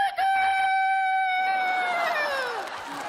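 A rooster crows loudly and close by, one long drawn-out cock-a-doodle-doo that bends downward at the end, heard alone without talk.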